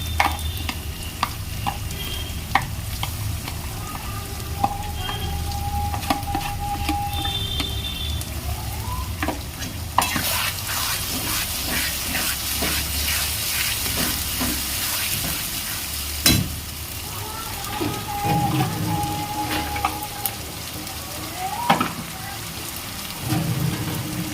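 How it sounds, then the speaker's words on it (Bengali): Ginger, cumin, onion, garlic, tomato and green chilli masala frying and being stirred in a pan, a steady crackling sizzle with scraping spoon strokes throughout, growing briefly louder midway. "এবার কষবো, ভালো করে কষবো মশলাটা।"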